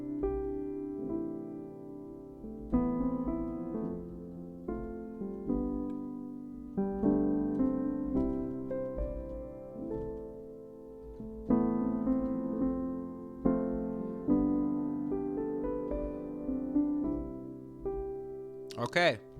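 Easy beginner piano chord progression played slowly on a piano, chords struck one after another in a steady rhythm, each ringing and decaying before the next, clear and close with no talking.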